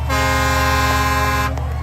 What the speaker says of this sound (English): Giving a honk to the crowd.